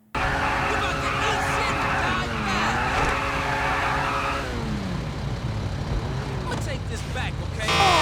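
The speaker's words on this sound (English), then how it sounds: "pull up beside them and start revving your engine" A car engine revs in GTA 5, a steady droning tone that rises and falls under continuous talk, then gives way to a rougher, shifting engine sound.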